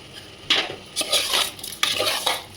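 A spoon scrapes and clinks against a cooking pot while chicken curry with chilli powder is stirred, several short uneven bursts of metallic scraping close by, with no talk.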